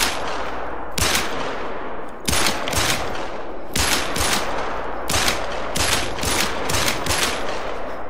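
Repeated 10mm handgun shots fired at bison in a hunting game, loud sharp cracks in a steady series of about seven or eight blasts with reverberating tails, no talking.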